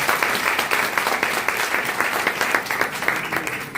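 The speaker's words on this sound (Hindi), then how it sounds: "तो सब तालियों के साथ इनका एक बार स्वागत है।" A gathering at a spiritual mission congregation claps to welcome two speakers, a steady stream of many hands clapping with a lightly pulsing rhythm at moderate volume, without voices over it.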